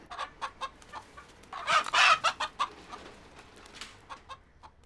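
A pet rooster kept in a cramped family apartment clucks in a quick series of short calls, one louder, longer squawk standing out in the middle, close and clear with no voices.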